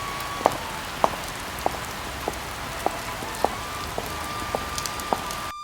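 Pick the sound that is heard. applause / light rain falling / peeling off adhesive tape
light rain falling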